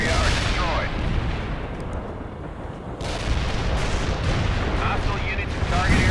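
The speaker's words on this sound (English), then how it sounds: "Coordinates received. Artillery firing." Artillery in the real-time strategy game World in Conflict fires in heavy rolling salvos, deep booms and rumbling blasts layered continuously over a battlefield, with radio-style voices speaking over the barrage.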